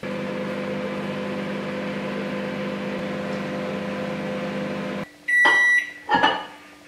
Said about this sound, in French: 60 secondes au micro-ondes et on se retrouve après parce que ça va faire un petit peu de bruit.